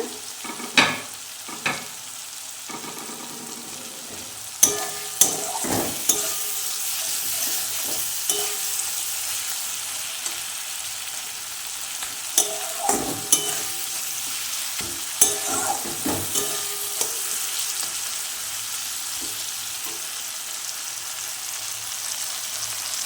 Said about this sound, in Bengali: মশলাগুলো ভালো করে ভাজা হয়ে যাক। দেখতেই পাচ্ছ তেল ছেড়ে দিচ্ছে মশলা থেকে।